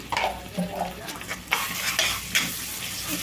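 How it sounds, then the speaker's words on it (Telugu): Onions and ginger-garlic paste frying in a pan for tomato kurma, steady close sizzling broken by several clanks and scrapes of a spoon stirring against the metal, with no talking. "అల్లం వెల్లుల్లి పేస్ట్ కూడా మంచిగా వేగాలండి పచ్చివాసన పోయే విధంగా చూడండి"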